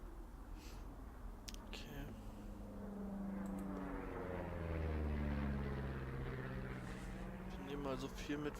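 Propeller airplane flying over in the Firewatch video game, a low droning engine that swells as it passes and fades, with soft talk around it.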